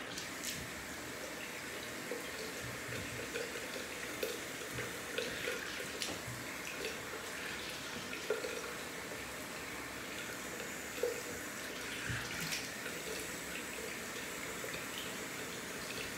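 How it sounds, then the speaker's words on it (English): A faucet runs steadily into a sink while a razor is rinsed between shaving passes, a constant moderate wash with occasional small knocks and splashes, no talking. "I always like to rinse my razor wiper off before my next pass."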